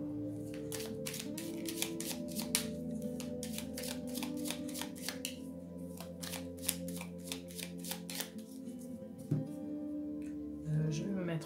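Tarot cards being riffle-shuffled by hand over a steady hum, with a rapid run of crisp flutters that slows toward the end.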